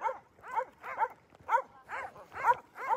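Several dogs barking at an animal shelter, a steady run of about seven short, close barks and yips in even rhythm, loud and clear with no talking.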